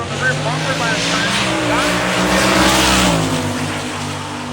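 Drag race cars, among them a Malibu wagon, roar down the strip on their runs, a loud, sustained engine blare with shifting pitch that fills the clip under an announcer's continuous commentary.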